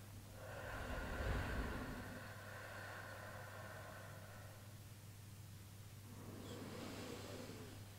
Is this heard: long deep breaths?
yes